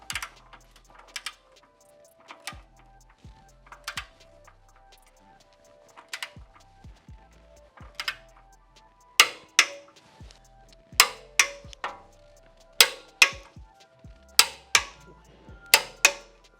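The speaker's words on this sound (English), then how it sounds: "we're gonna go ahead and torque these down to 80 foot-pounds" Sharp metallic clicks of a torque wrench tightening bolts on rock sliders fitted to a Rivian R1T or R1S, heard close in irregular bursts, single at first and then coming in quick pairs and clusters.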